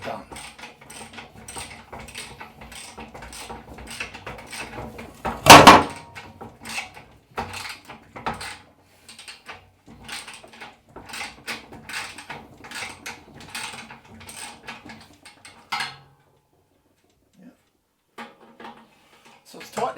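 Metal parts clinking and ratcheting while a front mudguard is fitted onto the wheel of a Wedge Tank BSA motorcycle, with a run of close, irregular mechanical clicks and one louder clunk, then quieter taps near the end.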